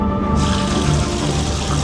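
Water from a shower runs in a steady, loud hiss with no pauses, close by and with no voices over it.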